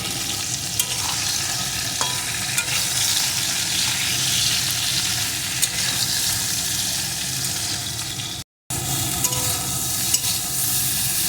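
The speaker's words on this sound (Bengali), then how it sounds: "এখন এই তেলের ভিতরে দিয়ে দেবো কয়েক টুকরো বেগুন সাথে দিয়ে দেবো একটু লবণ এখন বেগুনটাকে একটু ভেজে নেবো" Eggplant pieces fry in hot oil with a little salt in a wok, giving a loud, continuous crackling sizzle close by. A brief dropout breaks the sound before the frying resumes.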